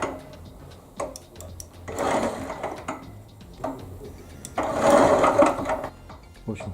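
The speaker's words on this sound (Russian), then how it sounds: "тележка начинает ехать" An electric self-propelled pallet truck with forks drives under its own motor, giving a faint mechanical whir that rises in two longer bursts, with light clicks in between, in a quiet indoor space.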